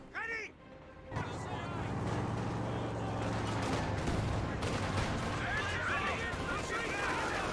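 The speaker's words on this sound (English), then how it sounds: "MG34 firing away." Constant rattling bursts of MG34 machine gun fire and explosions from the Company of Heroes 2 video game fill the whole mix, dense and loud, after a brief opening moment.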